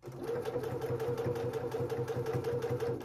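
A sewing machine runs steadily, stitching down a seam on a tank dress, its fast even whirr close and continuous without pause.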